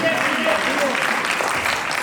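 An audience claps loudly and steadily during a Hindi stage play performance, a dense burst of applause that holds its level throughout, with a voice briefly audible over it.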